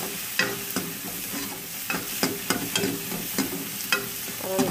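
Onion and tomato frying with a little salt as the base for toor dal, a continuous close sizzle with irregular spatula scrapes and taps against the pan, no speech.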